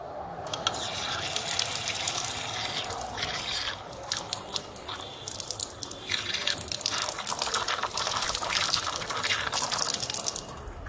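Water running and splashing as a cleaning cloth is soaked before wiping scratches on a car, a steady wet gush with squishy, dripping bursts throughout, fairly close and without speech.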